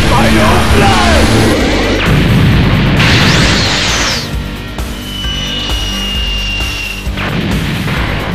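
Super Saiyan 4 Vegeta's Final Flash energy blast in a Dragon Ball fighting game, a loud roaring burst of crashes, whooshes and rumbling impacts that keeps blaring for several seconds.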